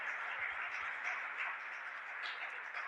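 A church congregation applauds in a steady, dense wash of clapping that holds evenly from start to finish, moderately loud and with no voices over it.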